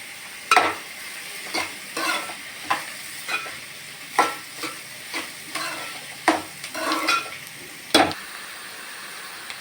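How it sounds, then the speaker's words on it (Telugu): Onions sauté in a pan for a fish curry under a soft steady sizzle, punctuated by regular sharp scrapes and clinks of a spoon stirring against the pan, close up with no talking. "ఉల్లిపాయ ముక్కలు అయితే మగ్గుతున్నాయి కదండి"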